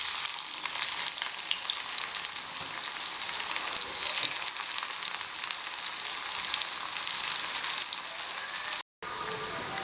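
A small onion sizzles in hot coconut oil in a pan for a crab roast, a dense, continuous crackling hiss heard up close, loud and steady with one brief dropout near the end.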